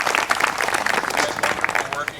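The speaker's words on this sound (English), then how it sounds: "Let's give them a round of applause." A crowd applauds briefly for the AAUW at a suffrage sing-along gathering, producing a short burst of brisk, fairly close clapping with a voice mixed in.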